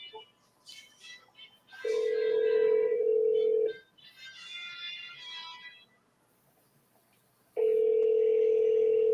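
An outgoing telephone call rings out with two long steady ring tones, split by a gap with faint background voices and a quiet pause.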